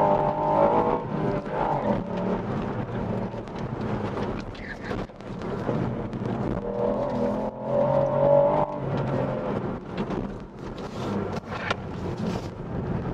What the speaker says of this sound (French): Un moteur qui chante bien